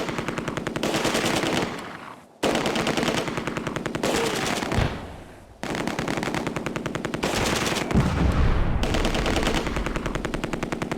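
Long bursts of machine-gun fire from a Close Combat battle, loud and rapid, broken by short gaps between bursts.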